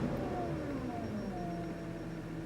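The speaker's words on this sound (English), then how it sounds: "Engine is running beautifully." A 2010 Audi Q5 engine idling, a smooth low steady hum with faint tonal whine, quiet and even throughout the short stretch, with no talk.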